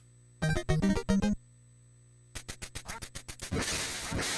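Retro 8-bit quacks from the NES game Duck Hunt, a short run of electronic duck calls followed by a rapid series of sharp clicking blips and a rising burst of noisy static, loud and clear with no talking.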